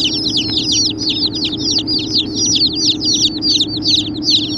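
Tiny baby bantam chicks peep nonstop in a brooder, making a dense, loud, rapid chorus of high chirps over a steady low hum.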